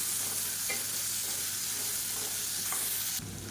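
Boiled potatoes are stir-fried in a pan and sizzle steadily up close, while a utensil stirs and scrapes through the pieces. The frying drops off sharply just before the end.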